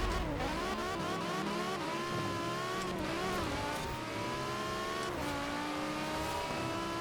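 Drag-tuned, super lightweight Lotus in Forza Horizon 4 revving hard and accelerating, engine pitch climbing steadily through gear changes with a continuous loud, close whine and no voices.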